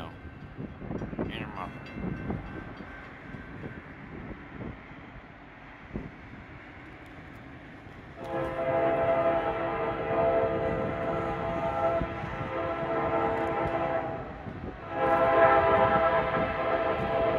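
A southbound Norfolk Southern freight train with Canadian Pacific and BNSF units passes a station in Gainesville, Georgia, its rumble building to a long, loud horn blast that breaks off briefly and then sounds again.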